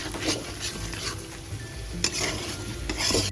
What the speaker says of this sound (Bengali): লো ফ্লেমে একদম মাংসটাকে কষে নেব